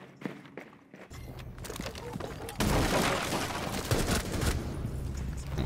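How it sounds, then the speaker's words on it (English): A shotgun blast in Rainbow Six Siege T-Hunt: a sudden loud burst of broadband gunfire erupts mid-clip and sustains, preceded by quieter game noise and footstep-like clatter. "Almost got shotgun blasted."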